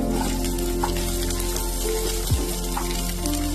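Small onions and shallots fry in oil for a Kerala-style squid dish, giving a continuous close sizzle with occasional scraping as they are stirred, over a steady low hum.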